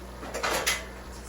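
A metal spoon is picked up from among cutlery in a kitchen, making a brief burst of light clinking and rattling against a quiet background.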